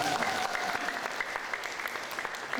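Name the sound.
audience applause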